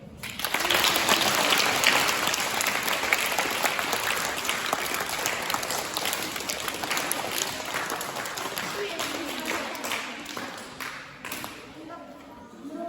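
An audience at an interactive Christmas show claps together in dense, sustained applause that starts loud and slowly thins out over several seconds, with voices mixed in.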